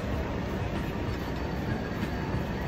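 A train at Brighton station gives a steady, loud rumble of wheels and carriage noise. It is continuous and close, with no talk over it.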